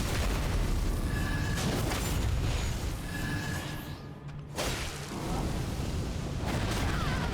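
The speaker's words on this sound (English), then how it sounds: "I forgot about the explosion." A heavy booming explosion in the video game Elden Ring rumbles loud and close, with dense low crashing noise that dips briefly midway before surging back.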